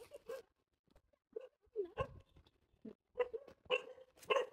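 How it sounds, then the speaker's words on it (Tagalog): A tied-up dog at a provincial house barks in scattered short bursts, fairly close and moderately loud, with brief gaps between the yelps and little else around. "Kaninong aso yan?"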